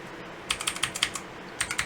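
Crisp clicks from a Redragon K552 87-key mechanical keyboard, with a short run of about six close key presses, then a pause and two more clicks.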